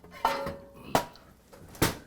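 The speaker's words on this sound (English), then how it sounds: "Why don't I just take one of these pots for now," Metal pots knocked and set down on a kitchen surface in a soul food cooking setting, three sharp clanks spaced about a second apart, close and fairly loud with quiet gaps between.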